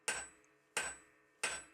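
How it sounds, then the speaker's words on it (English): Three evenly spaced ringing blows of a cross peen hammer drawing out the width of an iron saw blade on an anvil, each strike sharp and metallic with a short decaying ring, close and clear with no talk. "I'm going to take my cross peen and hammer across the width of the blade to give me the final dimensions"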